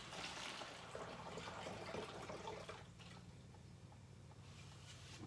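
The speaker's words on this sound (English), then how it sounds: "we're going to use about 2 liters of warm water" Warm water pours steadily into a jar, a soft continuous splashing stream that stays faint throughout.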